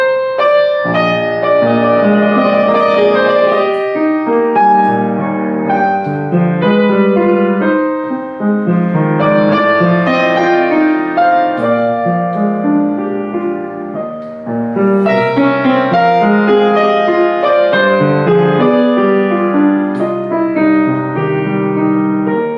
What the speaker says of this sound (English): Opus 55 number 2, it will be a different things, but still Chopin imposed a lot of counterpoint writings